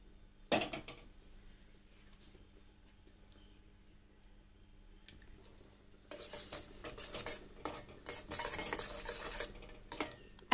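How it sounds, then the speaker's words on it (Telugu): Butter simmering in a pot on a low stove flame while it is made into ghee, with scattered spoon scrapes and clinks against the pot, then a stretch of busier stirring and bubbling near the end. "ఇలా కలుపుకుంటూ ఉండాలి మధ్య మధ్యలో"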